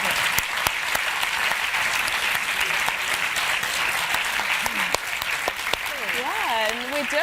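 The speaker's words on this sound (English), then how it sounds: "I just want to say a round of applause to Katie, Robin, Kathleen." Audience applause for a conference panel at an advertising industry event in Europe: sustained, evenly dense clapping from a seated crowd, with a few louder nearby claps and a voice speaking over it near the end.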